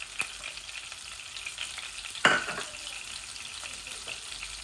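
Garlic sizzles in hot oil in a pan after tilapia has been fried and lifted out, a steady soft frying hiss with one brief louder burst of spatter midway.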